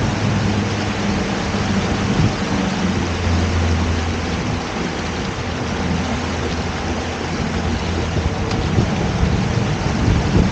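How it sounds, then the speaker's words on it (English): Heavy rain pours down on Lake Guntersville during a bass fishing outing, a loud, dense, unbroken hiss that holds steady throughout, with no distinct thunder crack standing out. "it's raining."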